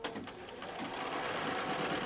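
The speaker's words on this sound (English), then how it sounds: "you can sew through it really easily" Sewing machine stitching through a Soft and Stable quilted pouch, a brief quiet steady mechanical whir at close range.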